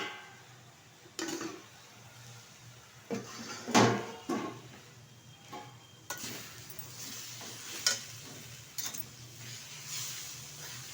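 A pan lid is lifted off taro leaves cooked with milk in a kitchen, giving a few sharp metallic clanks and knocks over a faint, steady sizzle.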